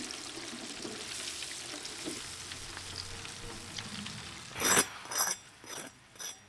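Shrimp deep frying in a large fryer give a steady crackling sizzle, followed near the end by several louder bursts of bubbling and clatter, close by with no talking.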